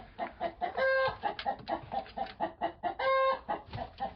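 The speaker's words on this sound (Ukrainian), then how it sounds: "той півень там почув незадоволений, але і качка незадоволена" Repeated clucking and squawking fowl calls close by, a rapid run of notes with a couple of longer drawn-out cries mixed in.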